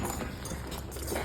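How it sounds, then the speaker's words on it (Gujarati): Hooves of a tall horse clip-clop steadily and fairly close, in a continuous rhythm over background noise. "તો જો આપણો ઘોડો છે કોન્ટેન્ટ."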